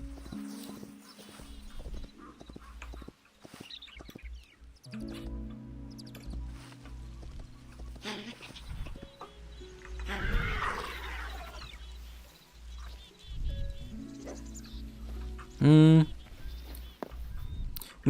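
A horse in the Hytale video game clip-clops its hooves and then gives a loud, high neigh near the end, with game sounds and chatter mixed in around it.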